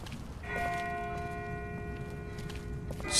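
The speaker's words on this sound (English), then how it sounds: "That's not the same bell as before. This one's further off." In The Walking Dead: Season One, a bell tolls far off in the game world, its ringing tone holding steady and faint over quiet ambience, with a soft footstep-like rustle near the end.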